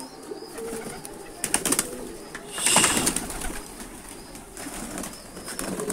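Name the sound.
pigeons cooing on a rooftop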